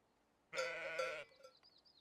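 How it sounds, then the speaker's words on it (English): A sheep bleats once, loud and close, in a farm-building video game: a single sustained harmonic bleat lasting under a second, followed by faint background game ambience. "I will make a sheep farm."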